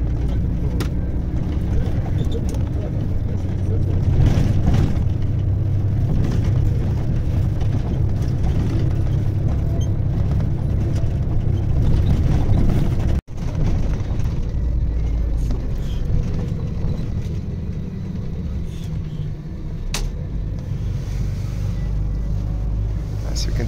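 Steady low engine rumble and road noise inside a moving bus travelling from Medjugorje to Split, continuous and loud throughout, with a brief dropout midway.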